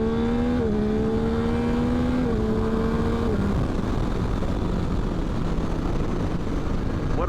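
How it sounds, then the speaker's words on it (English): Yamaha XSR900 motorcycle, 2022 model, revving up in first gear with a rising intake and engine tone that steps through short shifts, then fades into broad road and wind rush. "I don't know if you guys could hear the intake on camera, but doesn't this bike sound good?"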